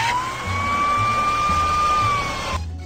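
Fire truck siren from a children's vehicle-learning video game: a steady, slightly wavering electronic tone that sounds alone and close, then cuts off abruptly near the end.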